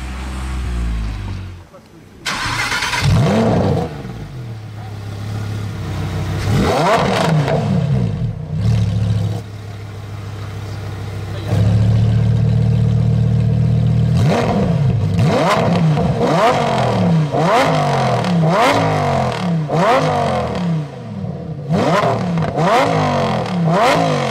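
An Audi RS3 in Nardo grey at a car meet gives repeated sharp engine revs that rise and fall in quick bursts, loud and close, with the pace picking up toward the end.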